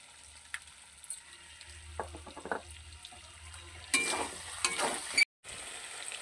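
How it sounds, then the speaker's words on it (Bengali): Onion, ginger, garlic, chili and cumin pastes fry in a pan, a soft sizzle that flares louder and wetter partway through, with stirring scrapes and a short silent gap near the end. "এবার আমি দিয়ে দেবো পেঁয়াজ বাটা, আদা বাটা, রসুন বাটা, লঙ্কা বাটা, জিরে বাটা"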